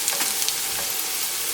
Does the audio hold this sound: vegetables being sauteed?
yes